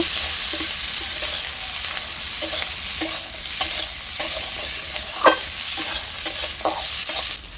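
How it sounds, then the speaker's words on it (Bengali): Chopped onion, dried red chili, ginger pieces and garlic frying in hot oil, a loud continuous sizzle close up, punctuated by regular scraping clicks of stirring every second or so, with no voices. "এবার সব মশলাগুলো আমি হালকা করে ভেজে নেব"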